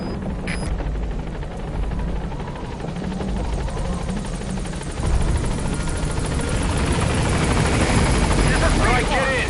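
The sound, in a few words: B-Quad support helicopter arriving, from video game Metal Gear Solid V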